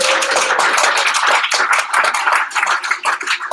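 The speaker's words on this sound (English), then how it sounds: "Clap your hands." A crowd in a conference audience claps hands together, a dense, lively burst of many overlapping claps sustained at close range with almost no talk over it.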